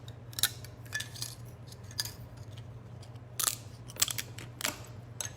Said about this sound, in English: And you're just going to cut these up.